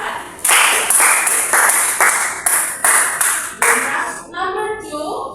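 Classmates clap in unison for a student in a school lesson, a steady run of loud, rhythmic group claps that fade into scattered children's voices at the end.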